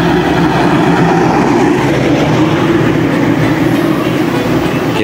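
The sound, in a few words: train passing by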